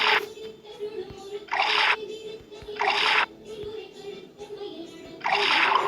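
Water splashes in regular bursts in a water sort puzzle game, four short pouring gushes at even intervals over a quiet background hum.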